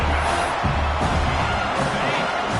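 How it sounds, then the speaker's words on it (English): Football stadium crowd at a college football game, a steady wash of cheering and roaring noise that stays loud and continuous throughout, with a commentator talking over it. "And the crowd coming to life here, trying to help this defense down in the red zone"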